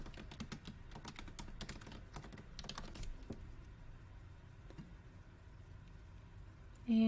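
A font name is typed on a computer keyboard, with quick close clicking keystrokes that come in bursts and then slow to sparse taps.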